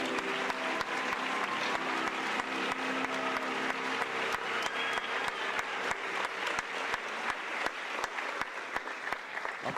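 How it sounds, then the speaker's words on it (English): An audience claps for contestants at the 2015 Ms. Missouri Senior America Pageant, steady mid-sized applause with distinct individual claps standing out over a continuous crowd wash. "Let's give all the ladies a big round of applause."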